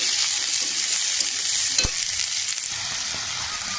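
Sliced beans, potatoes and thin-cut eggplant fry in hot oil with a loud, steady, close sizzle, broken by a brief scrape of stirring.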